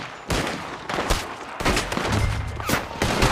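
Gunfire in the Red Dead Redemption 2 video game: a dense, chaotic fusillade of loud overlapping gunshots with sharp cracks in close succession throughout a heavy firefight, no talking.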